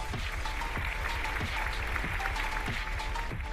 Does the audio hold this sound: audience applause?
yes